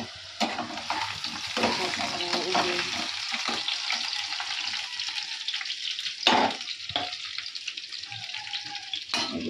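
Potato curry frying in a pan, a steady sizzle with intermittent stirring scrapes and a few sharper clatters, close and moderately loud with no talking.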